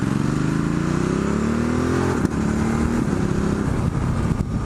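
Ducati Multistrada 1260S motorcycle with a Termignoni exhaust, a close, loud twin-cylinder engine revving upward in a rising growl, briefly interrupted by a sharp click, then pulling on steadily.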